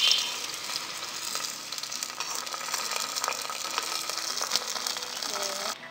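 Cashews and raisins crackle and sizzle steadily in hot fat while being stirred, with a brief burst as they are poured into broken wheat caramel payasam; a voice talks over it.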